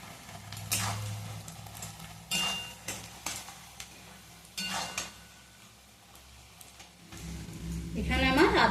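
Onions and spices fry in a pan for a Bengali mutton curry, with intermittent scraping stirs and clinks of a utensil against the pan over a soft sizzle, and a rougher burst of frying near the end.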